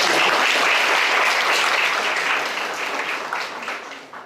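An audience at a university lecture series on sustainable business applauds, a dense burst of many hands clapping that gradually fades over a few seconds.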